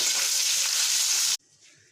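Potatoes frying in hot oil tempered with cumin, dried chilli and bay leaf for a fig curry, giving a loud, dense, close sizzle that cuts off abruptly to near silence, with no talking.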